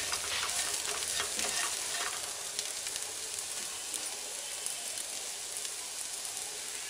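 Chopped gherkins (dondakaya) and green chillies frying in a pan make a bright, steady sizzle, louder at first and then settling into an even hiss, with light stirring.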